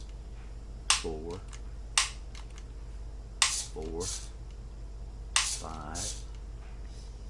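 Electronic laser target game registering hits, a short sharp click-pop for each one, four spaced bursts over several seconds, with a person counting aloud between them.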